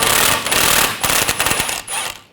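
An impact wrench spins a sway bar link nut off a 2011-2018 Volkswagen Jetta in several short, loud rattling bursts close by.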